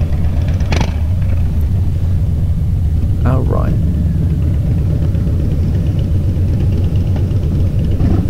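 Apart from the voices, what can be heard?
Harley-Davidson motorcycle engine running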